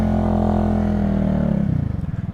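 A 250cc motorcycle engine in New York City traffic, a loud close drone that holds steady and then drops into a lower, pulsing idle-like throb.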